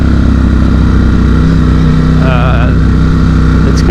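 A Ducati StreetFighter V4 motorcycle engine drones loudly and steadily while riding along an ocean road, a rumbling close-up tone with wind noise and a voice speaking over it.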